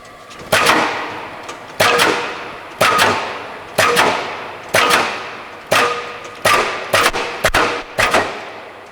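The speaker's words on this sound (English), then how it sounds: "We'll cycle it a few times, let you hear it" A used Bliss C-35 35-ton OBI punch press cycles repeatedly, each stroke landing as a loud, sharp metallic thump with a ringing decay, seven or eight evenly spaced hits over a steady shop background.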